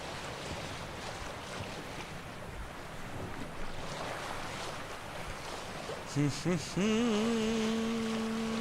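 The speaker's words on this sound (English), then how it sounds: "I'm sailing with a boat, on a boat, towards the sunset." Wind and rushing water wash steadily around a moving boat in The Witcher 3: Wild Hunt, followed near the end by a sustained tonal horn-like sound rising over the surf.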